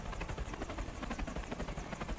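A Russian helicopter in the James Bond From Russia with Love video game thunders continuously with a loud, steady rotor thump that fills the scene, no voices over it.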